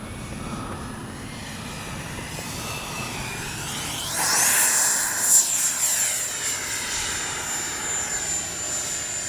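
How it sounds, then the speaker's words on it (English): An FMS 70mm F-18F radio-controlled jet roars past in a touch and go, its ducted-fan whine swelling loudly as it sweeps close, then easing into a steady high-pitched hum as it climbs away. "Leaving the gear down because I'm going to do a touch and go."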